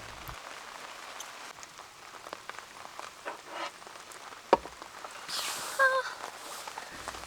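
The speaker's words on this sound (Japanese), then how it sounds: "雨に負けない、こんなお天気なので焚き火はできませんが" Rain patters on surfaces during a rainy car-camping trip, a faint, steady hiss of drops with a few louder taps and knocks, while someone speaks softly over it.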